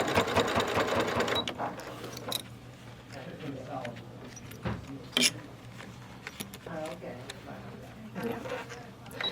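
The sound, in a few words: sewing machine stitching vinyl bag beside a zipper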